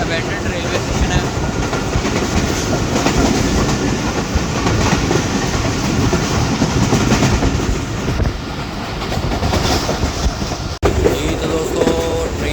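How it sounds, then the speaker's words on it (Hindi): Onboard the Awam Express, a Pakistani passenger train hauled by a Tiger ZCUP 30 locomotive, heading toward Lahore: a loud, steady rumble of wheels and carriages with a rhythmic clatter over the rails, and faint voices mixed in. "दोस्तों अभी हमारी ट्रेन खाना काछा से पास करेगी, जो कि अबैंडन्ड रेलवे स्टेशन है।"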